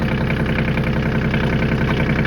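A Kioti CK27 compact tractor's diesel engine chugs loud and near as the clutch is let off, a steady low throbbing idle with a rhythmic knocking pulse and no talking over it.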